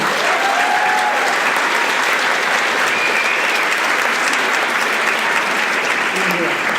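Audience at a 125 Years of Women's Suffrage panel event gives the speakers a loud, steady round of applause. Dense clapping fills the whole stretch evenly, with no talking over it.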